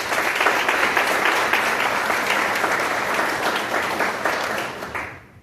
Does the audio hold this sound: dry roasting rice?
no